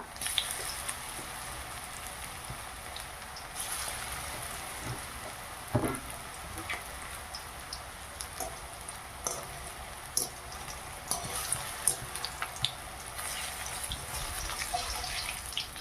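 Banana flower pakoras sizzle in hot oil, a steady crackling hiss with scattered pops and sputters as the fritters are turned, close and moderately loud with no voices.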